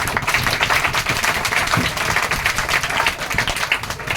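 Audience clapping in a classroom, a dense, steady stretch of many hands applauding at close range with no pauses.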